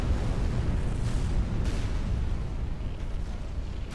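A smart bomb detonating in the Rise of the Reds real-time strategy game, a dense, heavy rumbling blast with a sharp crack at the start that slowly fades out.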